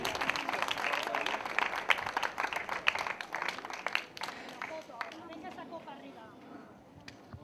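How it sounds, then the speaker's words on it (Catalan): A crowd applauds at the awards of a women's five-mile road race, with dense clapping that thins out toward the end while voices and chatter mix underneath. "Fort aplaudiment per la categoria Cadet d'una Milla"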